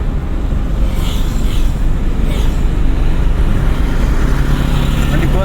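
Car moving along a road during a driving lesson, with a steady, loud engine and road rumble filling the cabin throughout while an instructor talks.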